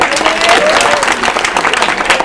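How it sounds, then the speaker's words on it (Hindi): Audience at a Brahma Kumaris anti-addiction street play in Gaya, Bihar, claps in a loud, steady burst of dense applause throughout, with faint voices mixed in. "जोरदार तालियां लगाएंगे"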